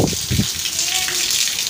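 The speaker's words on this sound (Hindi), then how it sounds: "ये बारिश हो रही है" Rain pouring outside in steady hiss and spatter, with brief muffled sounds at the start and a voice faintly present.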